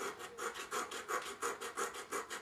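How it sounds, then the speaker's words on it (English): A hacksaw blade saws back and forth in a quick, even rhythm of about eight to ten strokes, each a soft rasping scrape, close but faint, with no voices. "Just a hacksaw blade. You can do it like that"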